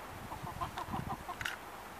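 A moulting hen gives a series of soft, short clucks close by, a few quick notes followed by a higher squawk, over faint background noise.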